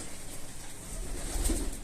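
A soft homing pigeon coo rises briefly near the end over a low, steady background hum; faint and close.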